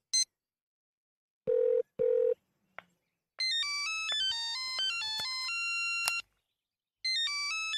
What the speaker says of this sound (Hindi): Raj, तुम मुझे फोन कर रहे हो?